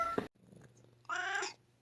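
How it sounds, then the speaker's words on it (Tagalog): A talkative house cat gives a short, soft vocal murmur and a low purr up close, with a quiet trill rising near the end. "Tapos, may pusa kami na si Hyper, yung talkative cat namin na magro-roll siya"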